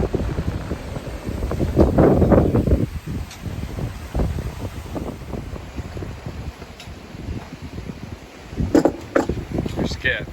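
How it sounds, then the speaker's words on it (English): A sailboat running downwind on a bright day, with steady wind buffeting the microphone and a rushing, rustling wash of air and water throughout, while someone talks over it. "It's a nice downwind run."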